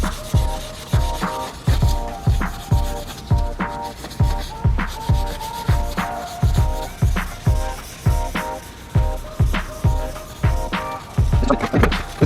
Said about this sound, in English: you're going to want to scrub it in with Scotch-Brite pad